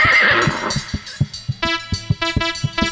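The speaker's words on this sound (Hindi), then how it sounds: "दूसरी बार आवाज दी घोड़ा ने हिन हिनाया" A horse whinnies loudly and close by, a high, wavering neigh followed by a series of sharp, rhythmic snorts and calls, with no voices over it.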